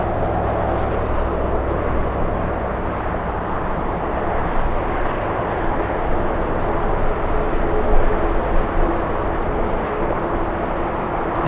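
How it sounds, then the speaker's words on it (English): A United Airlines Boeing 757 takes off from the south side of LAX in strong winds, a loud, broad, continuous roar of jet engines that swells slightly midway, with steady wind rumble underneath. "taking off here in the south side, we have United Airlines, a 757"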